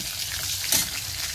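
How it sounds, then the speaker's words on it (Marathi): Chilies being sautéed in a hot pan after garlic has browned give a steady, close sizzle with a short stirring scrape partway through, and no talk is heard. "त्यानंतर मिरची, हे सगळं छान असं परतून घ्यायचं"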